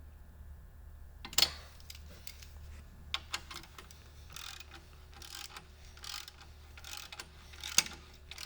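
A torque wrench tightens the highway bar bolts on a motorcycle's Dean Speed Challenger highway bar, giving a few sharp, isolated clicks amid quiet low mechanical rumble, with soft ratchet-like ticks scattered between.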